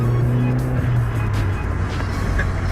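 A stage 3 tuned Saab Viggen accelerating hard in third gear, a loud, close, continuous engine roar with rising pitch that dominates throughout.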